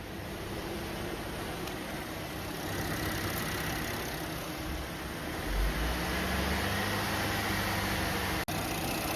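A Chevy Traverse 3.6L V6 idles steadily while warming up before a transmission fluid check, a low continuous hum with broadband noise, fairly close and even, with one brief click near the end and no speech.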